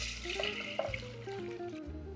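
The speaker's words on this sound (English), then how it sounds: "And in this goes in coconut milk. So it's a thick coconut milk." Thick coconut milk poured into a pan for a roasted pumpkin and coconut sauce, a soft liquid gurgle and splash at close range over a low steady background hum.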